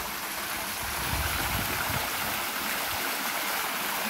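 Water pours steadily down an artificial waterfall built from foam and stucco rock, a constant broadband rushing roar at roughly 4,000 gallons per minute, close and unbroken with no voices.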